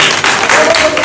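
A church congregation at a London sermon by a preacher claps together in a loud, close, continuous burst, with a voice mixed into the sound.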